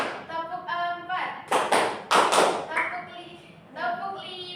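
A classroom of children claps on a counted cue, with a few sharp, bright hand-clap bursts in the middle between stretches of a voice giving instructions.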